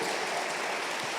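Church congregation applauding together during an evening service, a steady, even wash of clapping that fills the space without any voices on top.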